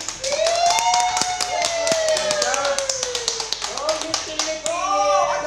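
Excited crowd in a Batangas City salon clapping and cheering for a Philippine beauty pageant contestant, with quick claps and high shouting voices layered under continuous talk.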